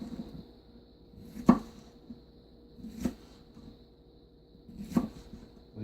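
Three sharp chopping knocks of a new Nakiri knife dicing peppers on a cutting board, spaced about a second and a half apart, close and clear over a quiet background.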